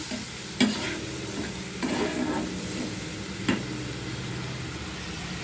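Tomato masala with salt and a splash of water being stir-fried in a pan, a steady low sizzle with scraping spoon strokes at a few moments, close and moderately loud.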